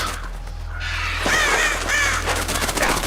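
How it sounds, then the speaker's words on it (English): Crows caw loudly in the video game Metal Gear Solid: The Twin Snakes, several harsh overlapping calls repeating over a steady low game hum, with no talk. "There's a lot of birdies around."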